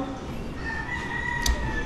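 A rooster crows faintly in the distance at a rural spot, a drawn-out call over low background noise.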